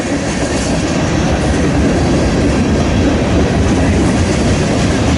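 Freight train with an old KCS rail boxcar passing, a loud, dense, unbroken rumble of rolling cars and wheels up close, with faint rhythmic clacking.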